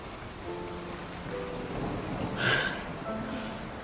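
Steady rain hisses in the Zenless Zone Zero video game, and a soft roll of thunder swells in the middle and then fades back into the downpour.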